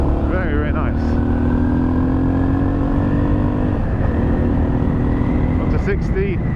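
A Yamaha TT600 Belgarda single-cylinder motorcycle engine drones loudly and steadily while riding, with a falling then rising pitch under engine braking, and wind rush throughout.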